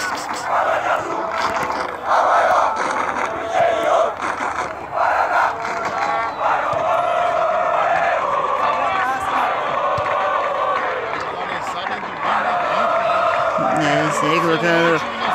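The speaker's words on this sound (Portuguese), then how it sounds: "É o primeiro tentar com a música da torcida do Londrina, do Londrina Esporte Clube, da Falange Azul." A loud recorded supporters' chant of Londrina Esporte Clube fans plays, a crowd singing in rhythmic sustained phrases with brief breaks, at an amateur football match.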